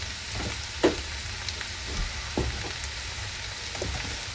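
Mushrooms frying in a pan over medium heat give a steady, soft sizzle with a few sharper pops and crackles scattered through, close by and with no talking.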